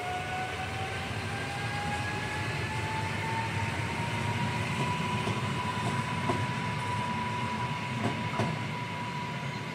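A Koleje Dolnośląskie train pulls away from Tychy station after a conductor's whistle, with a rising motor whine and steady rumble, faint rhythmic clicks of wheels on rail joints building gradually.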